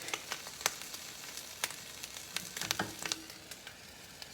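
An egg fries quietly in a pan, giving off a soft, continuous sizzle broken by scattered small pops and crackles, with no talking.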